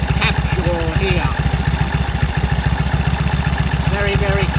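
A 1934 Indian Standard Scout motorcycle with a 45 cubic inch engine runs close by at a steady loud idle, an even rapid thumping pulse throughout with faint voices underneath.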